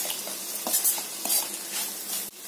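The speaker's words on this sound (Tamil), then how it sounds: "இப்போ இது கூட இந்த தேங்காய் பூ சேர்த்துக்கலாம். நல்லா கிளறி விட்டுடலாம்." Spatula stirring goat blood fry with freshly grated coconut in a hot pan, a steady soft scraping and sizzling with a few louder scrapes and a light clink near the end, close and alone without talk.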